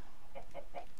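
A chicken in a Minecraft-style game gives three quick, soft clucks in a row, faint and alone.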